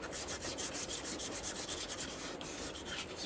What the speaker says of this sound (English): just take a piece of sandpaper, like a 220 grit sandpaper, and just lightly go over the surface